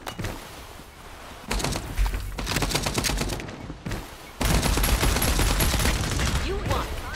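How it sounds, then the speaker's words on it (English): Shotgun blasts from the video game FragPunk, heavy booming shots in bursts amid dense game action and gunfire, loud and close, with brief pauses between volleys. "Shotgun."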